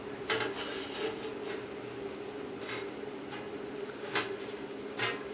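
Plasma cutter slicing thin 3mm steel at 50 psi air pressure, a steady hiss and buzz with a constant tonal hum, broken by several short crackling bursts as the arc cuts, fairly loud and continuous.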